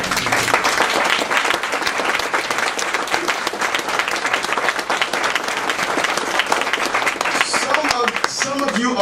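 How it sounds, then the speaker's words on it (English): A large audience claps hands in sustained, loud applause for nearly the whole stretch, with a voice rising near the end as it fades. "you better clap your hands."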